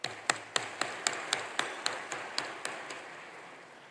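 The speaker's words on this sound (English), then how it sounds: "I think we should just give the Prime Minister one more round of applause if we can." An audience applauds the Prime Minister at a G20 clean energy pledging summit. Faint, evenly spaced claps keep a steady rhythm with no voices over them.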